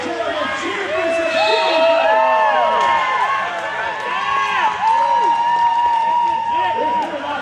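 A crowd at a roller derby bout cheers and whoops during a power jam, shrill shouts and yells rising together over steady arena noise for several seconds.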